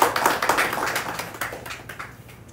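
Scattered hand clapping from a church congregation after a baptism, a loose patter of claps that thins and fades over a couple of seconds.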